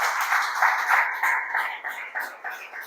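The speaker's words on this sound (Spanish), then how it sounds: "Démosle un fuerte aplauso al Señor." Church congregation applauding, a dense patter of many hands clapping at moderate distance, slowly thinning out over a few seconds.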